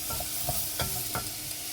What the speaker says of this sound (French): Dorer un peu l'oignon.